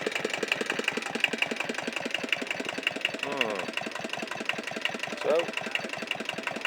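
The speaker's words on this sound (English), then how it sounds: "Nice sound. Runs good. Nice small piece of Kubota." A small Kubota stationary diesel engine idles with a steady, rapid, even knocking chug. It stays close and constant, and someone speaks briefly over it.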